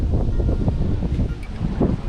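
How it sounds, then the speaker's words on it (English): Steady wind buffeting the microphone by a creek, a low rumbling roar with gusty swells throughout and no voices. "it's getting chilly and windy"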